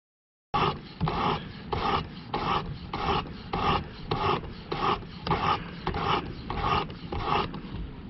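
A knife is drawn across the abrasive of a Work Sharp Precision Adjust sharpener in a steady run of about fourteen close, raspy strokes, each a short scraping pass with a brief pause between.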